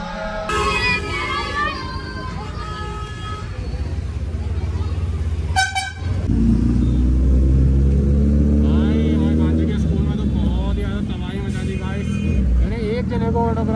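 Congested road traffic stalled behind a parked school vehicle: repeated car horns honk near and loud over a dense engine drone, with a sharp toot midway and a steady rumble of idling vehicles throughout.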